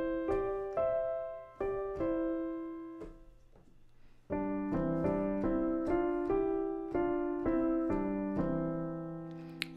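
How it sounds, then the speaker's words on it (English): A melody harmonized in horn fifths, played as clean sustained two-voice notes in a steady, stately sequence, quiet and alone with no talk. "It goes by the name of horn fifths"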